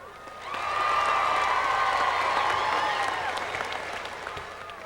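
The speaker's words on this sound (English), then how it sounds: "Let's give them all a round of applause." Applause from a pageant audience right before the winners are announced, a dense roar of clapping that swells within the first second and holds steady, then eases slightly toward the end, with faint cheering mixed in.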